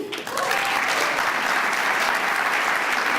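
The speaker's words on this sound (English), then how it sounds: "please give them a round of applause" Audience at an annual tourism meeting breaks into loud, sustained applause, a dense even wash of clapping from a full room after a brief quiet start.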